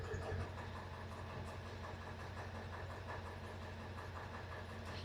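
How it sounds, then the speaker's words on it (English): A car engine idles steadily, a continuous mid-pitched hum and rumble that stays close and even throughout with no voices. "The engine is running"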